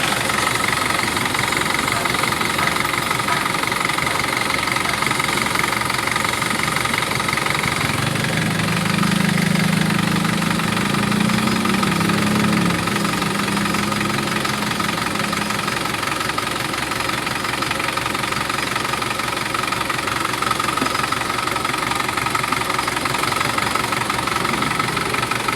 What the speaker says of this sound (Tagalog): Kaya pala nanginginig siya pag mainit na masyado yung ano, makina.